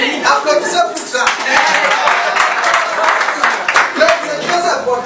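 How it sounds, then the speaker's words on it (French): An audience at a Bitcoin inauguration event claps and applauds steadily, a loud, dense patter of many hands that continues throughout, with voices faintly mixed in. "Applaudissez pour ça."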